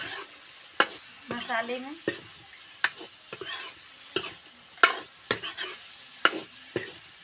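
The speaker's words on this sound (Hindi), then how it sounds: "ये मैंने तला के रखा था, इसको मैं अच्छे से इसमें मिला लेती हूँ" Fried suran (elephant foot yam) pieces being stirred into sizzling masala in a pan, with repeated sharp scraping strokes over a steady frying hiss, close and fairly loud, and someone speaking briefly.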